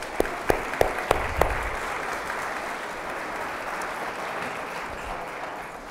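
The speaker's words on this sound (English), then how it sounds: "Let's give them a round of applause." An audience applauding faculty members at an evening leadership talk, a few sharp individual claps opening into steady, full-room clapping that holds evenly for several seconds.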